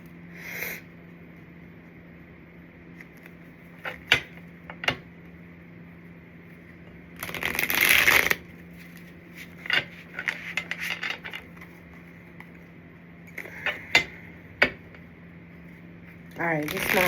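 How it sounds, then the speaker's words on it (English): Several short bursts of tarot card shuffling, including one longer riffle, separated by quiet pauses with a faint background hum. "Shuffle it up"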